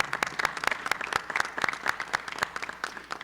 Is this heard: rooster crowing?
no